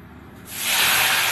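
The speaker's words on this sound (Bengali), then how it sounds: "এবার কড়াইয়ের মধ্যে দিয়ে দিচ্ছি সব আলুগুলো।" Potatoes hit hot oil in a wok and break into a loud, steady sizzling hiss that swells within half a second and keeps roaring close up.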